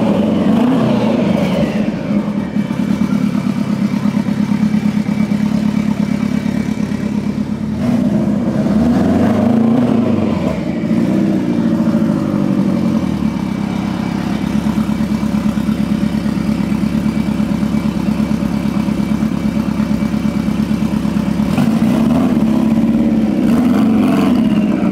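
A Rocket Bunny Pandem-bodied car rumbles close by as it pulls out of a Japanese bodyshop onto the street, its engine idling and then revving in swells, with a deeper surge midway and a steady droning tone throughout.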